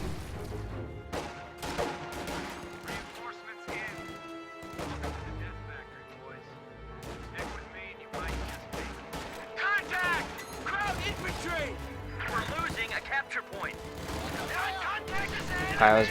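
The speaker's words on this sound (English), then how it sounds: "Grenade goes into the building." A video game battle with a grenade blast inside a building amid rapid, dense bursts of gunfire and crashing impacts, with a voice talking over the action.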